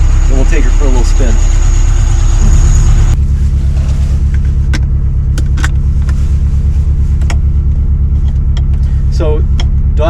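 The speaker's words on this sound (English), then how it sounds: "I'm going to let this car warm up a little bit" A Ferrari 308 QV idling as it warms up on a midwinter day, a steady low engine hum running throughout with brief clicks and a voice talking over the opening seconds.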